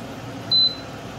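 A Xiaomi induction cooker sounds its finish alarm while cooking adobo: a single short, clean electronic beep at a steady pitch, clear over a quiet room hum.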